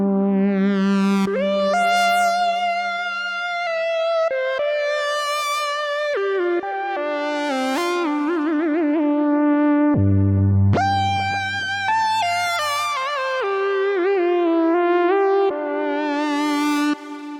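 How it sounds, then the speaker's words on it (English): A Minimoog lead synth preset with its built-in reverb plays a melodic line of sustained notes and stepwise pitch changes, including some lower held tones, with a washy, echoing tail throughout. "I played it with this Minimoog lead sound."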